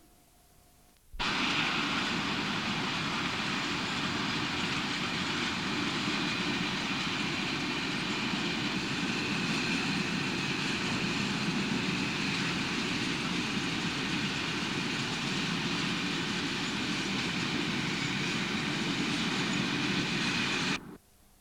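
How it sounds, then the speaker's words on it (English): A loaded stone train climbs a 1 in 150 rising gradient into the western tunnel portal, a steady, loud rumble of wagons and locomotive that starts abruptly and holds unbroken for about twenty seconds before cutting off. "On a rising gradient of 1 in 150, this loaded stone train enters the western portal."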